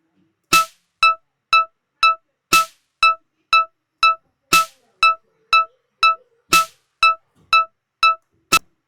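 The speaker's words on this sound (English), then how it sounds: "A 4/4 at 120 beats per minute would sound something like," Metronome clicking in 4/4 at 120 beats per minute: sharp, evenly spaced ticks about twice a second, with a louder accented click starting each bar of four, close and dry with no voices.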